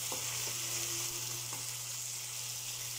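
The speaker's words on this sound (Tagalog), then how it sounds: "Haluin ng haluin yan hanggang igis-magisa ng maayos." Vegetables and other ingredients for Ilocano-style pinakbet sauté in a hot pan, giving a steady, close sizzle and hiss throughout with occasional soft stirring knocks.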